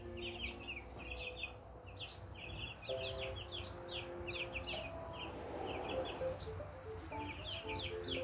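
Baby chickens, chicks expected to grow white, cheep and cluck softly in clusters of high peeps with low murmurs, fairly faint and continuous against a quiet background hum.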